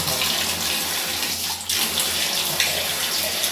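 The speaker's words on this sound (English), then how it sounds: "Heat water is coming. Very hot." Hot water gushes steadily from the tap of a 6-litre V-Guard water heater, a loud, close, continuous splashing rush with no talking.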